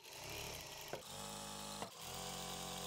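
A sewing machine stitching layered fabric for churidar pants runs in a steady close mechanical whir, broken by two short pauses before it starts up again.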